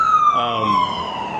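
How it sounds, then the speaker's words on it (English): An emergency siren wails with a slowly falling tone, moderately loud and nearby, over faint traffic noise. "Ambulances, it happens."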